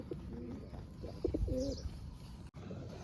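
Pigeons coo softly and repeatedly nearby as a flock feeds on scattered grain, with light pecking and shuffling noises in the background and a brief dropout near the end.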